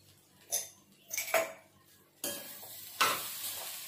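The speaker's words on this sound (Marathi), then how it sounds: "आता मी थोडेसे सफेद तीळ टाकणार आहे" Roasted white sesame seeds tossed into a hot pan, a few separate bursts of sizzle and clattering stirring against the metal, close and brief, with quiet gaps between.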